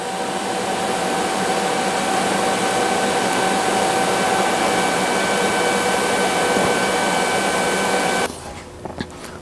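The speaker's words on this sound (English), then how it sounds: "when you're TIG welding, you always want to heat up your base metal first and then dip the rod" TIG welding along a steel fender seam, the torch heating base metal while filler rod is dipped in, gives a steady loud hiss and hum that runs unbroken for about eight seconds, then cuts off abruptly to near quiet.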